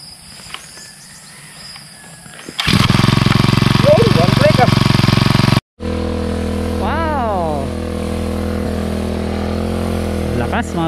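A small power sprayer engine starts up and runs loud and steady with a rattling, buzzing drone, cuts out briefly, then roars on again with faint voices underneath.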